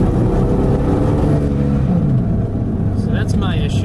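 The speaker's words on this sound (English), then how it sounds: "Gonna give it some hard gas." A car engine revving under hard acceleration, a loud, close drone rising and shifting in pitch from inside the cabin while a person talks over it.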